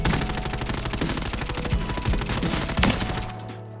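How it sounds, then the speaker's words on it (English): Rapid, continuous automatic gunfire aimed at a far target in a Warzone firing range in a video game, loud and close, with dense overlapping shots and heavy low-end thumps that cut off abruptly at the end. "when we go into the firing range and we fire at this far target"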